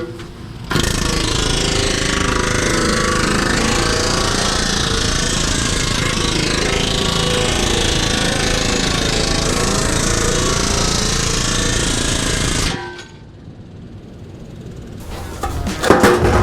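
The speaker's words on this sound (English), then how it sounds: "we got to planish out this little edge right here" Steady loud hammering on a rolled sheet-metal edge of a C10 pickup wheel tub, a continuous rapid pneumatic planishing rattle for about twelve seconds, then stopping abruptly with a brief quieter pause and a final burst.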